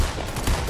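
Brief, close, loud gunfire in the video game Fortnite, a dense burst of shots lasting under a second.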